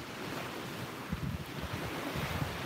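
Steady ocean surf on a beach at sunrise, a faint continuous wash of waves with light wind rumble against the microphone, no voices.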